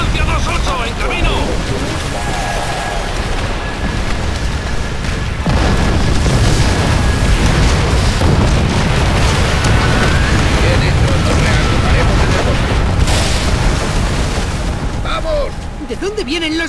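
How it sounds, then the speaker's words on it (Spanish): A continuous heavy barrage of booming rocket explosions in Call of Duty: World at War fills the scene, loud and close, with shouted Spanish voices breaking through. "ataques con cohetes Miller, sobre su posición"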